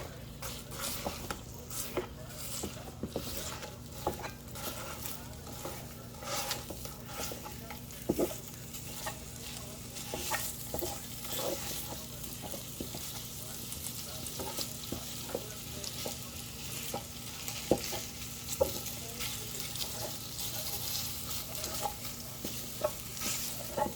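Ground meat browns for spaghetti sauce, sizzling steadily in a pan while a spatula scrapes and breaks it up with repeated light clacks, close and continuous.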